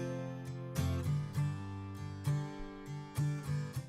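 Acoustic guitar loop played back in a Cubase project, with strummed chords striking in a steady rhythm, each attack ringing out over sustained low notes, clear and close with no voices.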